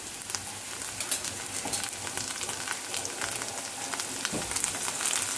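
Vegetables with ginger garlic paste and green chili paste frying in a pan for gobi manchurian give a steady, close sizzle with crackling pops throughout, loud and continuous with no voices.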